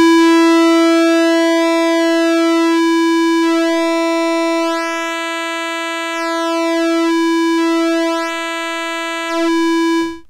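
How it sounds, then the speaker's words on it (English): Behringer MS-101 synthesizer playing a sustained pulse wave with manually swept pulse width, a loud steady buzzy tone whose overtones shift and sweep over about ten seconds. "But it also has pulse width modulation."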